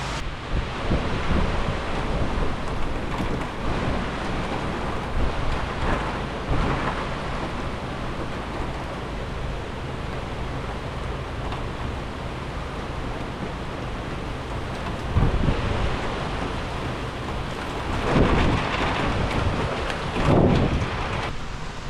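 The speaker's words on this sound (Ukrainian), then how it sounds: "Просто подивіться, який дощ пішов." Heavy rain pours steadily, a constant dense hiss, with low rumbles of thunder swelling now and then; no one speaks.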